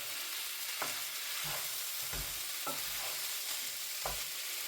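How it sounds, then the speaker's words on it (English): Sliced chicken breast strips fry in a pan for a chicken and mushroom curry, a steady close sizzle broken every second or so by soft scraping stirs. "2 chicken breasts here that I've just sliced."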